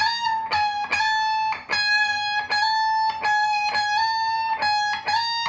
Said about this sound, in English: So we're gonna half tone bend it because it's gonna sound like this.